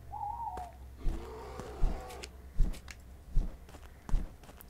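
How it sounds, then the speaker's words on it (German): An eagle-owl in the game Shadows Peak gives a soft hooting call at the start, followed by a series of muffled footsteps and faint rustling in a quiet setting. "Ein Uhu."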